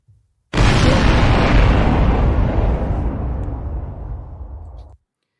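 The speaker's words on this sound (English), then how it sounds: "Let me give you your explosion." A single deep explosion bursts in suddenly after a brief silence, booming loud, then rumbles and decays slowly over about four seconds before cutting off.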